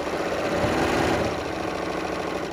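A BERNINA L 890 sewing machine stitches steadily up close, a fast rhythmic mechanical whir and patter of the needle running without pause and with no talking.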